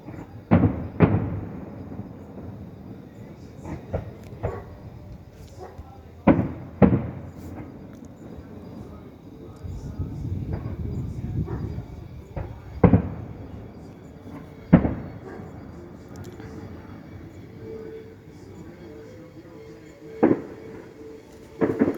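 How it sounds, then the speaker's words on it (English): Distant fireworks from the North Nowra show, heard as scattered dull booms and sharp cracks spread irregularly over about twenty seconds against a quiet, rumbling outdoor background. "I love fireworks."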